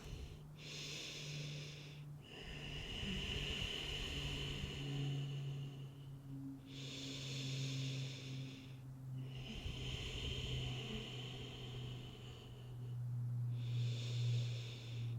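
Slow, deep breathing from a yoga instructor during a warm-up flow, with long airy inhale and exhale cycles repeating every few seconds over a steady low background tone.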